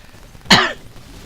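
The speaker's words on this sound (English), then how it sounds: "Always sorry about my coughing." A single sharp cough, close and loud, rising suddenly out of a quiet background and tailing off within a fraction of a second.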